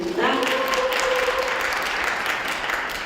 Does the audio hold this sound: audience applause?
yes